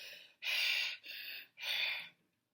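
A voice imitates a monster's scary panting: three long, breathy, raspy exhalations in a row, close and fairly loud, with short pauses between them.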